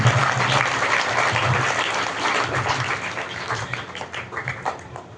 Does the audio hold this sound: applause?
yes